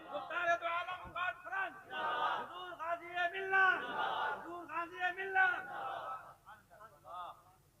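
A large crowd at a religious gathering answering a takbir call with rhythmic, repeated shouted chants of Allahu Akbar, loud and massed voices rising and falling in several bursts.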